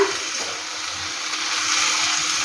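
Potato and banana flower frying with cumin, bay leaf and dried chilli in a pan, a loud, continuous close-up sizzle that holds steady without a break.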